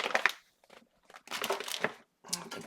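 Paper scraps for an altered book being cut and handled, giving short crisp snips and crinkly rustles in separate bursts with brief quiet gaps, close and fairly soft.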